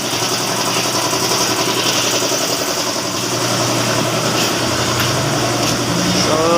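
A Toyota Wigo car engine running steadily during a general maintenance check, a continuous, fairly loud idle hum with even mechanical vibration and no voices.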